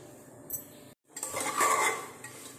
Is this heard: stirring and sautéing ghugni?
yes